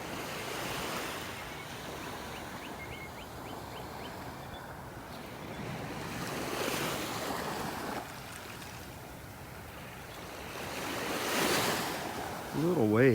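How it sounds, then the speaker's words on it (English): Small ocean waves lap gently against the shore on a North Naples, Florida beach in the morning, a steady soft wash of surf with slow swells and some wind noise over the microphone. "Little waves, not big waves, just lapping against the shore here."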